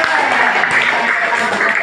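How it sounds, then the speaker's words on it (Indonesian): Classroom students applaud in a dense, steady wash of clapping during a teaching-practice lesson, nearby and moderately loud, with some voices mixed in. "Tepuk tangan."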